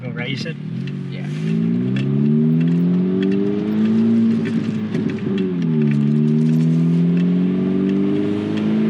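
A 10th-gen Honda Civic Si fitted with an AWE Touring Edition exhaust drones loudly and steadily from close by, its pitch rising and dipping as the car accelerates, while people talk over it.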